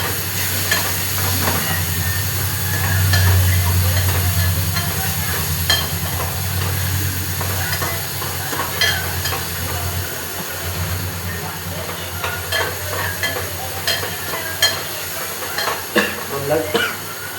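Chopped onions sizzling in a pan with a little oil while cooking pahadi Maggi, a steady frying hiss with intermittent clicks and scraping of stirring, under a voice speaking at times.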